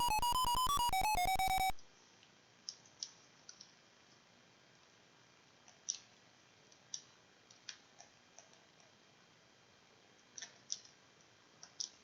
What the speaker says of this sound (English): Oh, so when you click, it pauses.